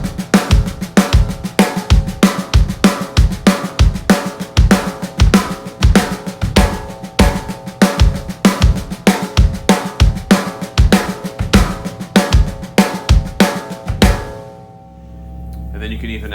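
Full drum kit playing an accented pattern that moves through bars of two beats and one beat each, with the kick drum shifting position. The hits are steady, loud and close for about fourteen seconds, then stop into a short ringing decay.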